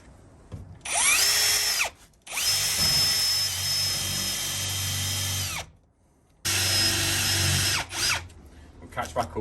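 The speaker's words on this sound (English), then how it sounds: "you get the flat bit out, which is provided. Put in your drill." A power drill fitted with a flat bit whines loudly in three long bursts while boring a hole, spinning up and winding down between them, with short pauses and faint background noise.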